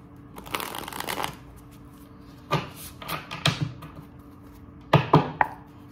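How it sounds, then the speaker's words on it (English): Tarot cards being shuffled up close in several quick bursts: a long riffle, then shorter rustling shuffles separated by brief pauses. "I feel like I gotta shuffle again."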